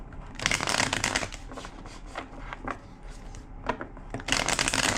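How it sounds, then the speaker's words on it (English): A deck of tarot cards is shuffled close up, giving bursts of crisp riffling and rustling with short pauses between, the loudest flurries at the start and again at the end. "2 more shuffles."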